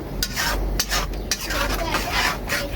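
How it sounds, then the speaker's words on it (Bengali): Blended spice paste for a chicken roast being stirred and fried in oil in a pan, with repeated scraping spoon strokes over a low sizzle, close and alone without talk. "এখন আমি এটা তেলের ভিতরে ভালো করে ভাজা ভাজা করে নেব"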